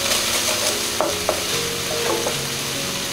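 Ginger and garlic sizzle steadily in a hot pan, with a few sharp scrapes and clinks from a spoon stirring them through, close and fairly loud throughout.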